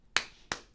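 Two sharp, close claps about a third of a second apart, fairly quiet, with a faint tap at the end, cheering on the Gigaversary event during a live crypto gaming show.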